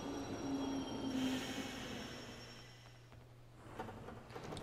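A train ride in the game Yo-kai Watch 2 gives a steady rolling rumble with a sustained tonal hum and faint wheel squeal, fading somewhat before soft clattering near the end.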